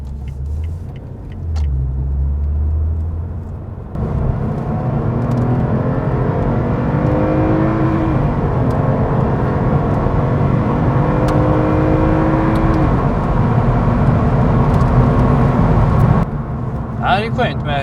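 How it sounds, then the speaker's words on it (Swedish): A modern car drives along and accelerates smoothly through its gears, a steady close engine and road rumble with rising whine as it pulls, bracketed by brief interior noises at start and end. "det är skönt med modern bil, så funkar det ju liksom, så det växlar fint och ja, drar på ganska bra också"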